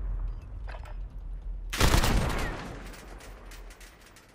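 A loud burst of gunfire from the Call of Duty Modern Warfare video game on the Cargo map, hip-fired shots erupting sharply and then fading into a lingering ring over a quiet game background.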